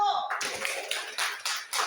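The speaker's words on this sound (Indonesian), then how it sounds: "Semua kawannya tepuk tangan untuk kelompok 1" A classroom of students claps for a group in an uneven run of sharp claps, following a brief spoken voice at the start.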